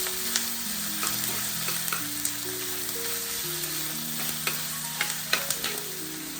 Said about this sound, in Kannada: ಇದು ಚೆನ್ನಾಗಿ ಫ್ರೈ ಆಗಬೇಕಮ್ಮ. ಸ್ವಲ್ಪ ಗೋಲ್ಡನ್ ಕಲರ್ ಬರಬೇಕು ಈರುಳ್ಳಿ ಚೂರು.